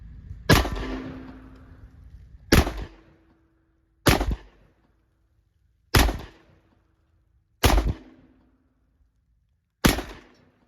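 A 1911 pistol chambered in .45 Super fired outdoors, six loud single shots spaced about one and a half to two seconds apart, each a sharp crack with a short decaying tail; no voices.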